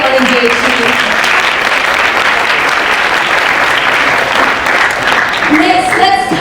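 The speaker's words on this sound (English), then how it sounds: "So let's give all of ourselves yet another round of applause." Audience applause fills a finale event hall, a dense steady clapping that carries loud throughout, with a voice briefly heard near the start and again at the end.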